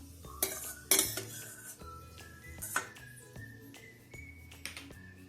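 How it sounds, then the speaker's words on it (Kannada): Fried ingredients being scooped from a pan into a bowl, with sharp metal spoon clinks and scrapes against cookware, close and fairly quiet, scattered knocks with no talking. "ಈ ಫ್ರೈ ಮಾಡಿರೋದನ್ನ ಒಂದು ಬೌಲ್ ತೆಗಿತಿದ್ದೀನಿ"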